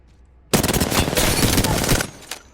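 Automatic gunfire in Apex Legends, a loud sustained burst of rapid shots lasting about one and a half seconds, then a brief quieter shot or clatter as it trails off.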